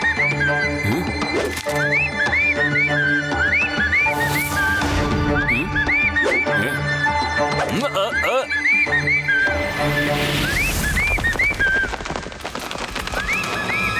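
Repeated short rising whistle signals sound in a cartoon village, coming in quick bursts of chirp-like notes over busy background music and sound effects.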